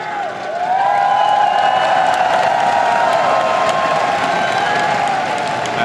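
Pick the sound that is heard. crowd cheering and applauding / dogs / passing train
crowd cheering and applauding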